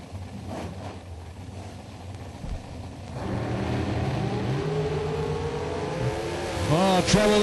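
Drag racing car at the starting line, a steady engine drone with wind noise that swells into rising revs near the end, heard at a distance.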